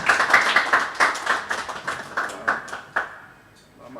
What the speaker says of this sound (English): Clap for me small now.